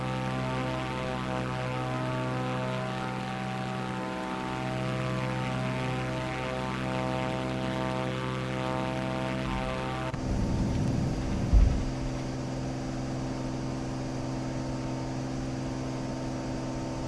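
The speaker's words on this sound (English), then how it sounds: "taking off from runway 24" Propeller aircraft engine droning steadily during takeoff from runway 24 in Microsoft Flight Simulator 2024, a loud continuous hum that shifts in tone partway through, with a brief thump and no talking.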